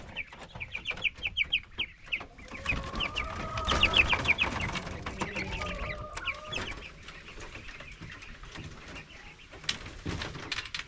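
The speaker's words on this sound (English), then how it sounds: "let's get the quail in their new home and see how they like it" Young quail settling into a new cage, with a busy flock of small birds chirping, clucking and cooing at close range, steady and overlapping throughout with a few sharper calls.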